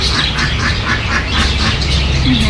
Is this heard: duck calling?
yes